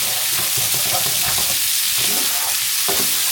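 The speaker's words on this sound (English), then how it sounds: "Add our refried beans. Mix them all up." Refried beans sizzling loudly in a hot pan while being stirred and scraped with a utensil, a steady frying hiss with intermittent stirring scrapes while making huaraches.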